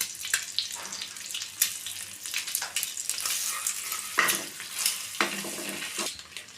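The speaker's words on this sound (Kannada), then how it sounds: "ಇದನ್ನು ಮೊಟ್ಟೆನ ಫ್ರೈ ಮಾಡ್ಕೋಬೇಕು." Eggs fry in a pan, seasoned with salt and chilli powder, with an uneven crackling sizzle. Repeated sharp stirring scrapes and splashy bursts come through up close at moderate loudness, with no speech.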